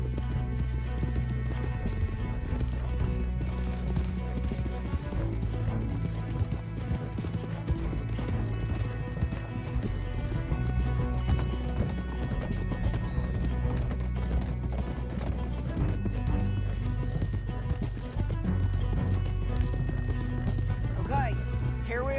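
Horses gallop with steady rhythmic clip-clop hoofbeats in Red Dead Redemption 2, running close and loud under a game score, with a character's voice talking over them.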